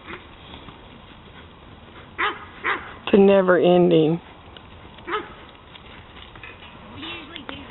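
A dog lets out a few short barks and a sharp, rising whimpering whine in an outdoor setting with horses, while a person speaks quietly between the sounds.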